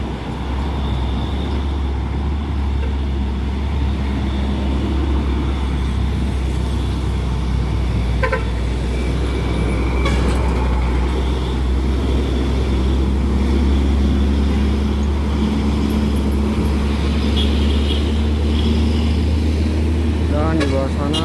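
Hino dump truck climbing a hill near Tanjung Kodok, its engine a steady, loud low drone with road noise, while a voice speaks over it throughout.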